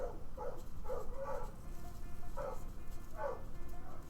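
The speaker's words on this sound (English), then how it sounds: "Why are we hearing a doggo in the sub anyways?" A dog barks outside in a series of sharp yips, some in quick pairs, spread across a few seconds at moderate distance over a steady low background hum.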